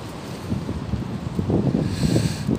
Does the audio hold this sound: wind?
yes